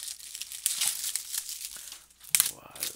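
Crinkling and tearing of plastic wrap as a Scooby-Doo DVD case is unwrapped, close and busy with irregular rustles, ending in a sharper rip, while a voice talks over it.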